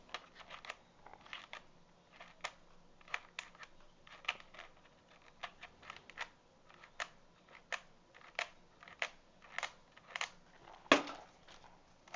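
Computer keyboard being worked on to free a stuck key: a quiet, close series of irregular clicks and taps, spaced unevenly, with one louder clack near the end.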